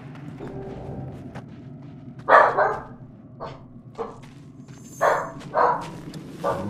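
A dog barks in several short bursts, a couple of single yaps then paired barks, fairly close over a steady low background hum.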